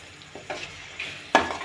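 Mushroom masala curry frying in a pan with a little milk, giving a soft sizzle broken by a few short stirring scrapes and clinks, the sharpest one near the end.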